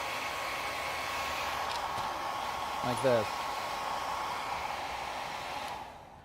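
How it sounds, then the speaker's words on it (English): A small portable hair dryer runs steadily throughout, a continuous airy whoosh used to dry paint, with a brief voice speaking near the middle before the blower cuts off at the end. "I usually end up using like a little portable hair dryer, small one"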